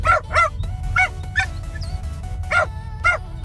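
A pet dog barks inside a car on a beach trip, about seven sharp, loud barks in uneven bursts over the low rumble of the vehicle's engine.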